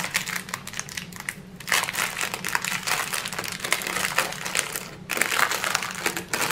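Ziploc plastic bags from a diamond painting kit crinkle and crunch close up, bursts of rustling handling continuing for several seconds with short pauses and no voices.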